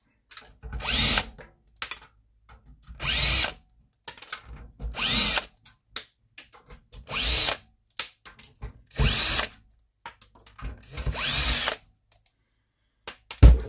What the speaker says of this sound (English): Taking the screws out.